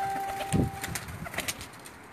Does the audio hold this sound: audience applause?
no